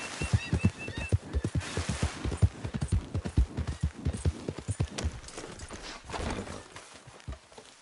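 Horse hooves clip-clopping at a steady trot in the Western video game Red Dead Redemption 2, loud rhythmic hoof strikes throughout with no talk over them.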